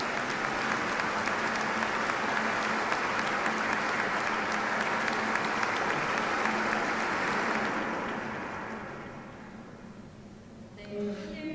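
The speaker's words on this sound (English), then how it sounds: "Let us give them another warm round of applause" An audience at a peace festival in Korea applauds after a musical performance, a dense sustained wash of clapping that fades out near the end.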